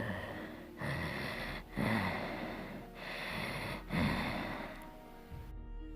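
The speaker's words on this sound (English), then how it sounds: "the only noise that came out was a rasping breath" Slow, drawn-out rasping breaths, about four in steady rhythm, close and moderately quiet against a faint hum, ending with a brief soft tail.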